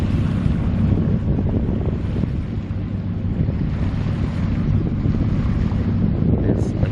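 Steady, loud wind buffeting the microphone over the rush of small sea swells from a southeasterly, heard aboard a sailboat in Cook Strait waters; a continuous roar with no talking.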